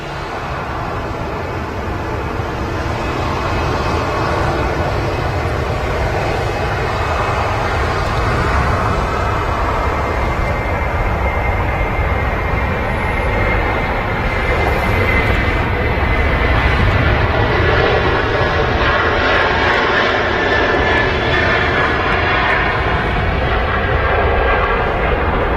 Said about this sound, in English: Aer Lingus 330 now on the roll off to Bridgetown